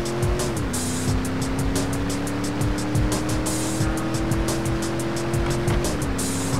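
A video-game police car engine hums steadily at close range on a stormy day, its pitch dropping as gears shift, over continuous rushing road noise with a repeating rhythmic clatter.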